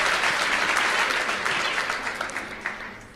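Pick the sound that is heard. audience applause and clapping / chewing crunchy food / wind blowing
audience applause and clapping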